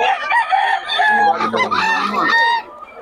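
A gamefowl rooster crows loudly and close, one long drawn-out cock-a-doodle-doo that fills most of the moment before cutting off.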